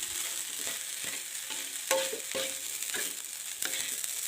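Steady hiss of spicy fried rice and wild boar meat frying over a low flame, with recurring scraping and tapping strokes of a spatula stirring the pan at close range and no voices.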